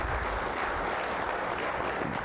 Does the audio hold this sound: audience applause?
yes